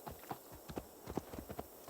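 Horse hooves clop in the video game Assassin's Creed Valhalla, a quiet, steady rhythm of soft irregular hoofbeats at a walk, with no voices.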